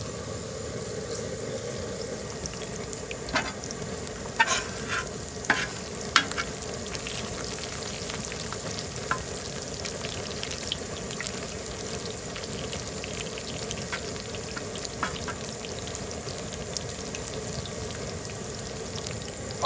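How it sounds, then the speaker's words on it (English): French fries frying in grease on a Southwest Disk cooker alongside pork patties, a steady, even bubbling sizzle with occasional light clinks and scrapes from a utensil, heard alone without talking. "I just slid the fries that were up there down into the grease"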